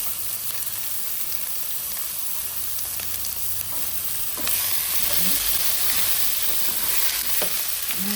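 Capsicum fries in a pan for a dhaba-style curry with a steady, close crackling sizzle, and scattered small pops and stirring scrapes run throughout, growing slightly louder partway through.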